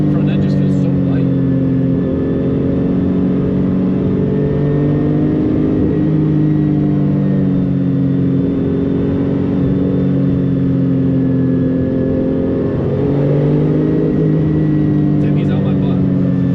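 A Porsche 993 Turbo engine drones at high speed from inside the cabin, a loud steady low roar with rising and falling harmonics as the car pulls, and someone speaks briefly over it.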